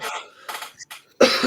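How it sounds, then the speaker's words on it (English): A single sharp cough bursts out at close range in a quiet room, following a few softer throaty sounds. "Making me cough"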